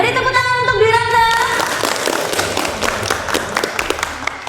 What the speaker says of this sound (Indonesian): Beri tepuk tangan untuk Dwi Ratna.